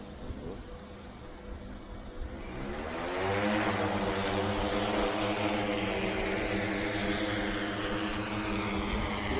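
An ultralight aircraft engine starts and revs up for takeoff at a training airfield, a propeller drone that swells from a rough idle to a loud, steady, high roar held to the end.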